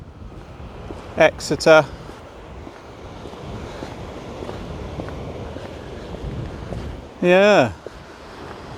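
Wind and surf at the beach at Dawlish Warren, Devon, a steady broadband rush of waves and wind buffeting the microphone, with brief bursts of nearby talk.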